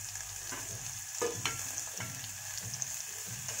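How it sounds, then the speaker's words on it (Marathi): A spoon stirs chowli usal with garam masala, coriander-cumin powder and salt in a hot pan, scraping in steady strokes over a constant sizzle of frying. "मग ह्याला चांगलं ढवळून घेणार आहे"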